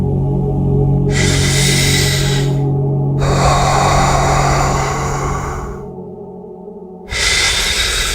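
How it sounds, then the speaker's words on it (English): Deep belly breathing from the diaphragm: long, airy breaths drawn in and let out close to the mic, three full cycles with brief pauses, over a low steady hum. "Place your hand on your belly and take a deep breath."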